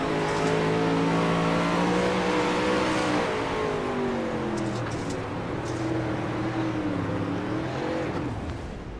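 Onboard sprint car on a dirt oval at Williams Grove, engine roaring loud and close, pitch dropping as the driver brakes and spins the car around, revs wavering through the slide.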